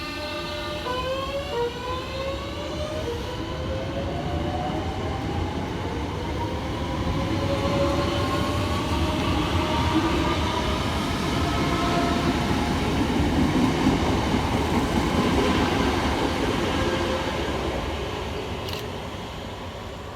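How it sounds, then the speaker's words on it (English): Two Southeastern Class 465 electric multiple units, 465902 and 465932, passing on the Hayes line at West Wickham, with a rising motor whine, rail rumble and wheel noise swelling as the train nears and fading as it moves off. "kicking things off is 465902 and 465932, working the 1014-7 Southeastern service from Hayes through to London Charing Cross"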